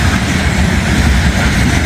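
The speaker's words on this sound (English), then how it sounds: "Always enjoy catching a steel coil train." A steel coil freight train rolls past, a steady loud rumble with faint wheel clatter running unbroken throughout and nothing else standing out.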